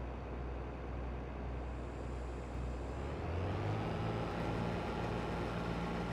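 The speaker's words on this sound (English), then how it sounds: "you can hear combine revving up like that" A combine harvester in Farming Simulator 22 revs up, its steady loud engine drone rising in pitch and level partway through, with no talk.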